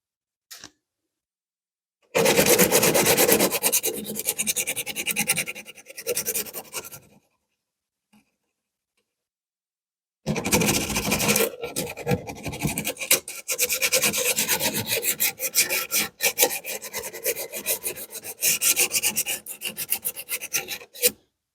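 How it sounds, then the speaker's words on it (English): Long stretches of steady, gritty rasping as a round rod is sanded back and forth by hand, up close, with a short quiet pause between two bursts. "as I'm sanding"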